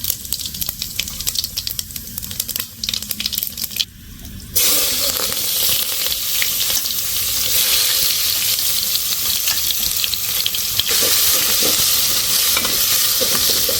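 Cumin seeds tipped into hot oil in a pot for chicken khichuri set off a sudden loud, crackling sizzle partway through, which stays steady and dense after a quieter stretch of kitchen clatter and faint hiss.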